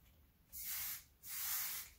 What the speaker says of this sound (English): And then the next part of the system, the dry oil spray again. Misting it over the top,